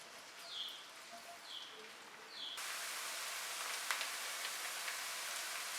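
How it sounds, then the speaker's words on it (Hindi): Onion and garlic frying in half a cup of oil in a pan, a steady sizzling hiss that jumps much louder partway through and keeps crackling at an even level, alone with no talk. "पैन में डालेंगे आधा कप ऑयल, एक मीडियम चॉप प्याज, 1 टीस्पून कुटा लहसुन। इनको हल्का सा फ्राई करेंगे।"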